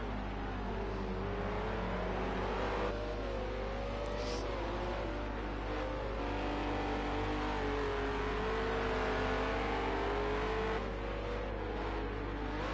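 Renault RS01 race cars in Project Cars 2 at the Nurburgring short circuit, engines droning steadily with rising and falling revs for the whole stretch, several cars close together, no voices.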